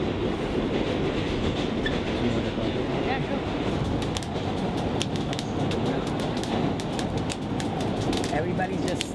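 New York L subway train riding toward Brooklyn on a Wednesday evening: a continuous loud rumble with rattling clicks and metallic squeals, with voices mixed into the noise.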